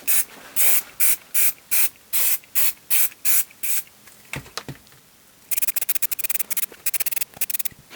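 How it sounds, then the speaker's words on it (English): Spray can of lacquer coating an output transformer: a run of about nine short, regular hissing bursts, a brief pause with light handling noises, then a faster series of quick spray puffs, all close and alone. "a few days later I've been spraying this with that lacquer"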